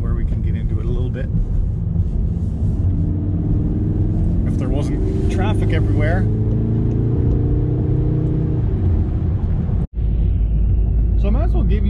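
A Volkswagen MK7.5 Golf R pulls hard up an on-ramp after a downshift, its engine droning loud and steady inside the cabin with a rising note and a brief cut at a gear change, under someone talking.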